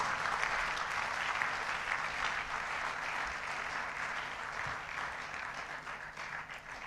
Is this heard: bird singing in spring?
no